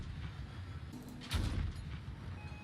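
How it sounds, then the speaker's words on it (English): The Hulk turret cannon fires once in the Crossout vehicle combat game, a single heavy boom with a rumbling tail, faint against a low background hum. "Next up, we have the Hulk. Hulk is a turret cannon."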